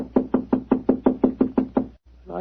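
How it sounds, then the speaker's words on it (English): Knocking on a hotel room door in a radio drama: nine sharp, evenly spaced raps, close and loud, followed by a short pause and then the start of a voice. "I'll knock again."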